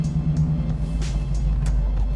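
A 1973 AMC AMX with a 360ci engine on a test drive, heard as a steady, deep engine rumble and road noise from close by, with no talking.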